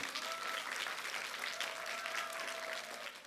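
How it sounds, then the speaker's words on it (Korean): A seated audience at a regional youth talk event gives a round of applause, an even, continuous patter of clapping heard quietly and at some distance. "박수 한번 주세요"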